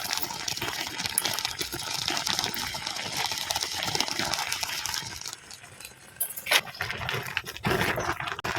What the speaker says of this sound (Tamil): நாங்கள் கொஞ்சம் சேர்த்து தண்ணி ஊற்றி கிண்டுவோம்